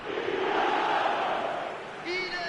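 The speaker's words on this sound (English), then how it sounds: "the crowd are reacting to that now" Stadium crowd in a football video game, a sustained broad roar of many voices filling the whole stretch, swelling slightly at the end with higher cheering on top.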